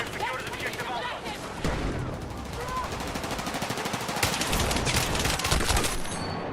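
Dense video-game gunfire crackles nonstop in rapid automatic bursts, loud and close, with voices talking over the shooting throughout.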